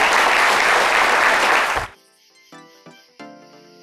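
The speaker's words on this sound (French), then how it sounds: "nous allons, mesdames et messieurs, accompagner notre invité par des applaudissements" A loud wash of audience applause greets a guest for about two seconds, then cuts off abruptly, leaving quieter scattered sounds.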